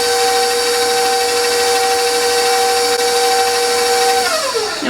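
An electric mixer beats funny cake batter, a Lancaster, Pennsylvania Amish dessert, with a steady high motor whine held loud and constant, shifting pitch slightly near the end.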